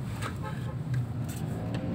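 Car traffic on an expressway heard from inside a vehicle, a continuous low rumble of engine and road noise with faint passing sounds, steady and moderately loud.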